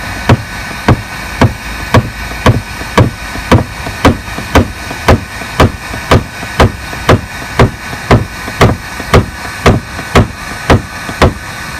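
A hammer taps out a dent in a car body panel in a steady, even rhythm, about two sharp strikes a second, close and loud for the whole stretch.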